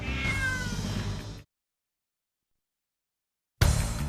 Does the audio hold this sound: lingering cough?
no